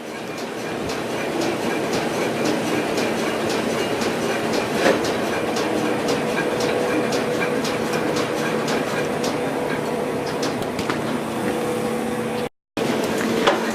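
Printing press equipment feeding envelopes, a loud, continuous mechanical clatter with a rapid, regular ticking rhythm that runs without letup and cuts out briefly near the end.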